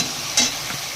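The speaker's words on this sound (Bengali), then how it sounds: "এটাকে একটু ভেজে নেব" A spice paste of tomato, cashew, raisin, ginger and ground dried chili fries in hot oil in a pan, giving a steady soft sizzle with one brief scrape of stirring.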